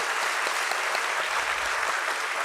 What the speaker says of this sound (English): let's begin this morning with a huge round of applause